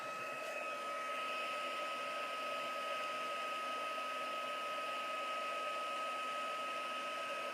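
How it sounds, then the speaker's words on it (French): A heat gun blows air steadily over a Christmas wreath decoration, a constant whooshing roar with a faint whine that stays level and unbroken throughout, with no talking. "je vais juste passer un coup pour souffler avec le pistolet"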